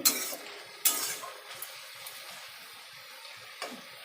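Water runs from a kitchen tap into a cooking pot in a home kitchen: a steady, soft hiss broken by a few splashy surges and a light clink or two. No voices are heard.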